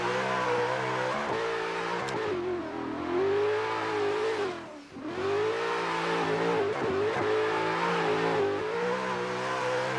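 A Toyota Supra and a Toyota GT86 on a practice run around a drift track, engines droning and revving hard with rising and falling pitch, a brief dip midway, then back to sustained high revs.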